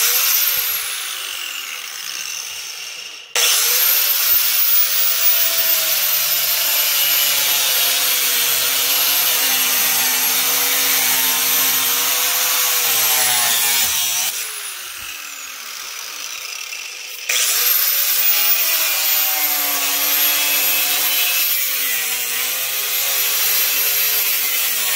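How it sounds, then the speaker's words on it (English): Angle grinder cutting through PVC for a power tool hanger, a loud high-pitched whining grind that runs long, dips briefly as the blade eases off, then resumes at full bite. "we're just gonna use our grinder and cut this out"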